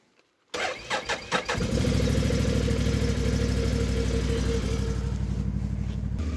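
A commercial-grade Honda GX engine on a Split-Fire 3255 log splitter is pull-started outdoors on a cold winter day: a few quick sputtering pulses, then it catches and settles into a loud, steady running drone.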